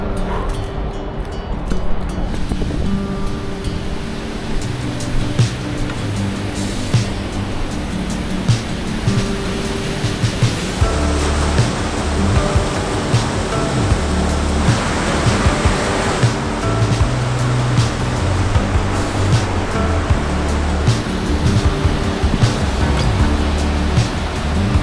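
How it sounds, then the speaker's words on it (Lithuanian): Powerful water rushes over smooth-worn stone in a steady, loud, broadband roar that never lets up, like a strong stream or falls heard close by. "Reiškia, teka ten vanduo."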